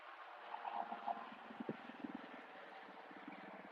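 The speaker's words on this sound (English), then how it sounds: "There's another helicopter coming back from a tour." A tour helicopter flies over Las Vegas, heard as a faint, distant rumbling drone with soft rhythmic rotor thumps and small fluttering bursts.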